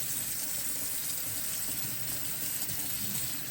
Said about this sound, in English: now I'm gonna start rinsing this